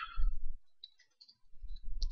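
Computer mouse clicks while editing text, a few quick, soft clicks spaced out over about two seconds against a low background hum.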